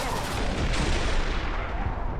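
A grenade goes off in the Killing Floor 2 video game: a loud, close, broadband blast with a rumbling tail that fills the whole moment.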